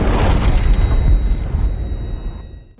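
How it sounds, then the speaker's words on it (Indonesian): A gunshot from the 2016 thriller film Don't Breathe, fired by a veteran at point-blank range inside a house: one loud, deep booming blast that rolls off and fades over a couple of seconds. "Tidak diduga, pria veteran langsung menembak kepala Manny."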